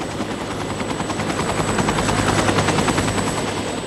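Medical rescue helicopter waiting to transport a burn patient, its rotor beating in a fast, steady chop with a high engine whine, loud and close throughout.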